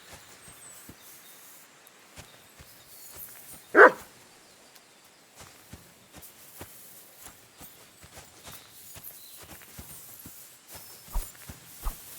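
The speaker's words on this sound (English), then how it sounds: "Good dog, Mutt. Show me." A dog barks once, a short sharp burst standing out over a quiet game soundscape of soft footsteps and faint clicks, in the medieval role-playing game Kingdom Come: Deliverance II.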